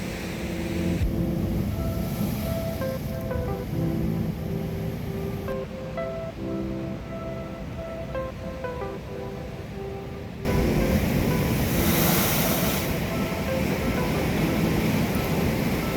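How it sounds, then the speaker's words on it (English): Ocean waves crash at Storms River Mouth in a continuous heavy roar of surf. The roar swells louder partway through, with no talking. "The fierce ocean."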